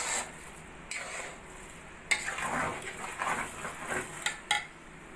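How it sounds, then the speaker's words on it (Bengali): Ghee and slit green chillies are stirred into chicken tehari in a pot. A spoon scrapes and knocks against the pot in irregular close strokes over a low sizzle. "দিয়ে দেব ঘি আর চেরা কাঁচা লঙ্কা, সবকিছু ভালো করে মিশিয়ে নেব।"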